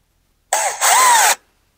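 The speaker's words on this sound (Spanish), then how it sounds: "taladramos" Power drill driven into garden soil while planting petunias: a single short burst under a second long, revving up with a rising whine, then cutting off abruptly, close and loud.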